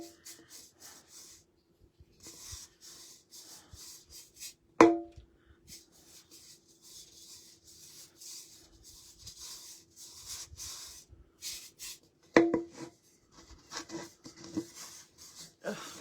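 A paintbrush sweeps over a vintage cake cover in soft, close, repeated strokes, quiet throughout, broken by a couple of sharp taps.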